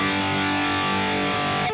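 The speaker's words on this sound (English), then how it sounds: "So if we enable the lead mode, you'll see most of the distortion coming from this section." Heavy lead-mode distortion from a Mark IIC+ preamp simulator plugin, a dense, buzzing square-wave clipped tone held steadily and loudly before cutting off near the end.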